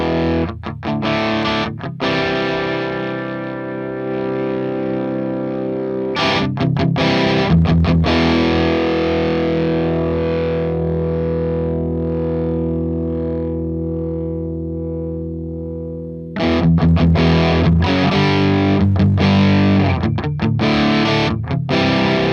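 A Marshall JCM2000 DSL guitar amp with the gain switch engaged, loud distorted electric guitar chords alternating choppy strummed bursts with long sustained ringing chords that slowly decay, thick and saturated throughout.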